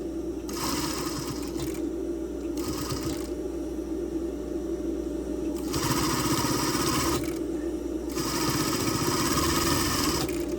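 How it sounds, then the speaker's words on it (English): A sewing machine stitches elastic onto a bra cup, running in repeated bursts of rapid mechanical whirring with short pauses in between, close and loud over a constant motor hum. "I'm letting the sewing machine pull as I sew."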